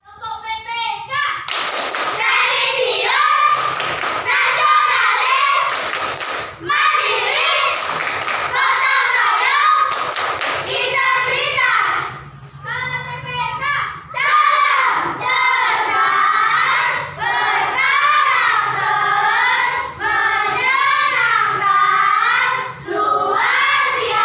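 Schoolchildren in an Indonesian elementary class chant the PPK clapping routine together, loud rhythmic group voices with claps and thumps running almost continuously, broken by brief pauses.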